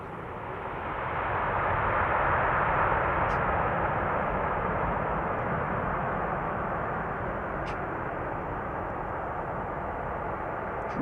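An aircraft landing at Amsterdam Schiphol Airport, on runway 36 right or 04, makes a steady, loud broadband jet roar that swells early and holds for about ten seconds, with no voices.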